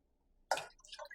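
Water poured from a cup into uncooked rice in a cooking pot for Jamaican steamed rice: a single short, close splash that trails off quickly after a moment of quiet.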